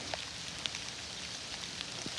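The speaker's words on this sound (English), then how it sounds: "As the rain starts to pick up," Steady rain falling on a micro mesh gutter guard, a continuous dense hiss with scattered sharper drips and patters, close and even throughout, with no voices.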